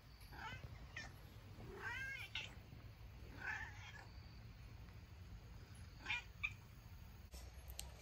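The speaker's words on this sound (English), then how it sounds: "Can you hear my cat?" A pet cat meows several times indoors, with drawn-out, plaintive cries spread across the stretch, clear and fairly close against quiet room tone.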